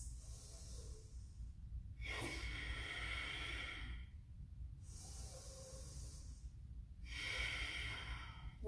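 Deep, slow yoga breaths during a vinyasa flow: three long breath cycles, each a broad airy hiss of inhale or exhale separated by short pauses, close and steady over a low background hum.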